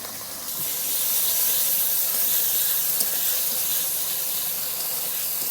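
Chilli and cumin pastes added to fried ginger and tomato in a pan for a drumstick vegetable dish, bursting into a loud, continuous hiss after a brief quiet start.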